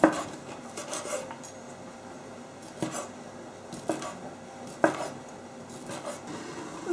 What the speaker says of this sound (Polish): Kiełbaskę kroję najpierw wzdłuż, a potem o, w takie pół plasterki.